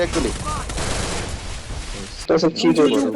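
Rapid bursts of gunfire in a Free Fire mobile battle-royale match fill the first two seconds, followed by a few louder shots with a gamer talking over them.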